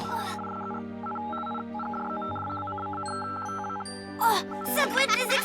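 A cartoon amateur radio gives out strange electronic tones: steady layered hums with a run of rapid beeping pulses and a high whistle, then short bright warbling bursts near the end, with no one speaking.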